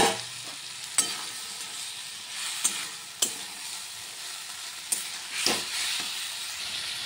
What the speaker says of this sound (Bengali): এখানে ভেজে রাখা আলু ফুলকপি এখন আমি দিয়ে দিচ্ছি।